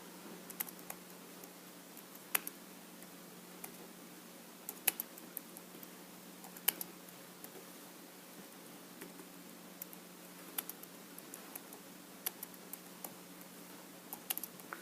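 Quiet, scattered clicks of keys being typed on a computer keyboard, irregular and faint against a steady low room hum.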